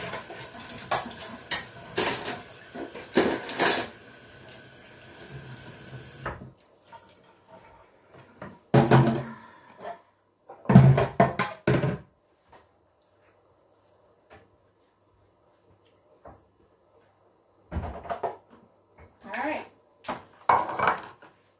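Washed dishes and kitchen utensils being rinsed while cooking Indonesian fiery prawn with coconut rice: separate bursts of clattering crockery, pans and cutlery, split by quiet gaps, close and fairly loud.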